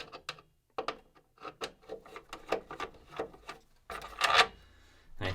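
Screws being backed out of an Aprilaire home humidifier motor housing, a close series of rapid ratcheting clicks and scraping turns followed by a louder burst of rattling near the end, no talking.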